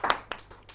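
A few scattered hand claps from a small audience after a comedian's joke, three or four sharp separate slaps spread over a moment, quiet and thin rather than a full round of applause.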